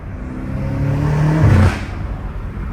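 A downpiped BMW M5 Competition accelerates hard on a street. A loud, close exhaust roar rises in pitch through a gear, peaks with a sharp bark, then settles into a steady drone.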